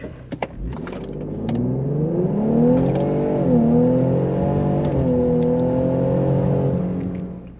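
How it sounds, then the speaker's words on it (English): A Borla S-Type exhaust on an Aviator roars through a hard acceleration in regular mode, the pitch climbing and dipping with each gear change, loud and close. "I'm going to do a quick pull for you in regular mode"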